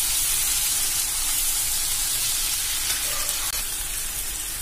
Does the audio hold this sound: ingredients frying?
yes